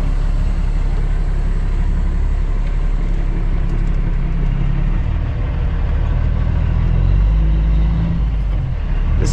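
Old Blue, a semi truck, pulls away after warming up, a steady loud low diesel rumble and drone that swells slightly near the end, with no talk over it.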